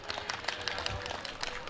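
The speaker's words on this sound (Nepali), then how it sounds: "जोरदार तालीको अपेक्षा गर्छु" A crowd at the Sundarbazar festival claps with rapid, dense applause throughout, with a voice faintly mixed in.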